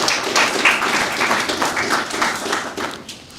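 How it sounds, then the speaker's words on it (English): Audience at a youth entrepreneurship symposium applauding themselves, a sustained wash of many hands clapping at moderate loudness with slight swells and a gradual taper near the end. "Put a round of applause together for yourself"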